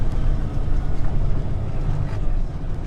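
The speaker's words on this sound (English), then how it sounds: "So Eric's downshifting now because we have a red light." Low, steady rumble of a semi truck engine from inside the cab as the driver downshifts while slowing for a red light, a continuous droning throb with no talk over it.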